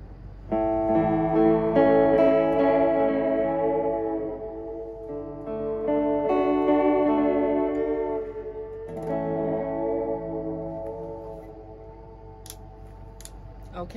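A PRS SE Parlor acoustic guitar played through a Fender Reflecting Pool pedal on its echo tap setting rings out in sustained strummed chords with repeating delayed echoes that swell and fade, clear and alone.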